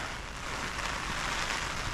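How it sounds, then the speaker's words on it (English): Hard rain and wind pound a tent during a sea paddling trip, making a dense, steady rushing hiss that continues without a break and without any voices. "still raining hard, windy."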